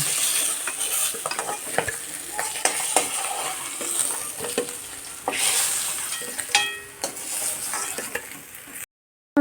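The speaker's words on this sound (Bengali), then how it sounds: "মাছের পিস্তটা ভাজা হয়ে গিয়েছে এখন আমি নামিয়ে নেব" Fish pieces sizzle steadily in a hot pan while a utensil scrapes and clinks against it repeatedly, close up, ending in sudden silence.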